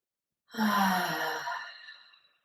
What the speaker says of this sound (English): take a nice long exhale through an open mouth